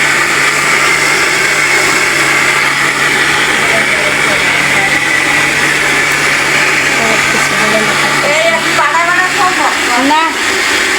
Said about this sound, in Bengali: সব কিছু ব্লেন্ডার করতেছে